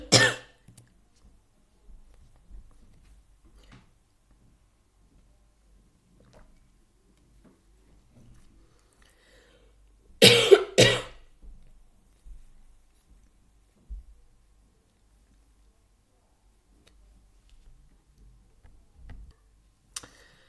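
Two or three sharp, close coughs midway through long near-silence, with a faint throat sound at the start and light ticking in the background.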